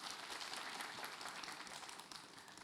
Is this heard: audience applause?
yes